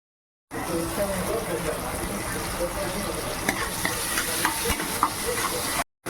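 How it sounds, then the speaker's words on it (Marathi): Salted onions fry toward golden in a pan for Maharashtrian dal khichdi, giving a loud, steady sizzle with scraping stir sounds throughout, starting abruptly and cutting off just before the end. "कांदा लवकर गोल्डन होण्यासाठी आपण मीठ टाकूया, म्हणजे त्याच्यामुळे कांदा लवकर गोल्डन होतो."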